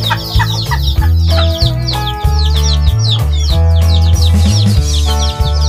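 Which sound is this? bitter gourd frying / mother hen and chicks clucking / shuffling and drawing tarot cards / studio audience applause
mother hen and chicks clucking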